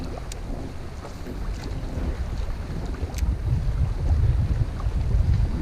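Steady wind buffets a small fishing boat on choppy Lake Memphremagog, a broad low rumble of gusts and water building slightly louder toward the end, with no voices.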